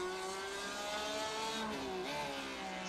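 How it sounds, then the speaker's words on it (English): A Porsche GTE race car in the iRacing video game, its engine note climbing steadily as it pulls away down the straight at Circuit of the Americas, a loud, sustained harmonic whine with a brief dip near the end, no voices. "The Porsche pulling away on the straight."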